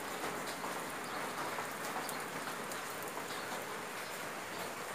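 Steady rain falls and drips in a village, apparently near a rain gutter and chimney, a continuous close hiss of drops on surfaces throughout with no voices.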